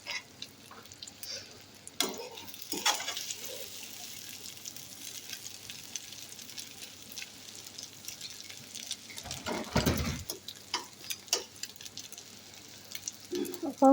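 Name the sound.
egg frying in a pan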